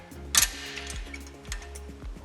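A BMW E9x brake spring tensioner pops free under a pry bar: one sharp metallic snap near the start, followed by faint ticking and clicking of metal parts, close and quiet with no talk.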